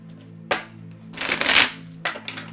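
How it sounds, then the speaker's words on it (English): A tarot deck shuffled in hand, close up, in short riffling bursts with a louder rustling flurry in the middle over a low steady hum; no talking. "I'm just shuffling this backwards real quick because there's a curve in the deck."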